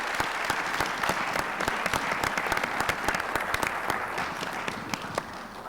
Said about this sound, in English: So let me give an applause to our excellent panel,